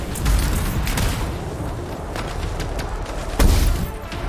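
Gunfire and explosions in the video game Anthem, rolling bursts of booming shots with heavy low thumps, loud and close, a big blast near the end.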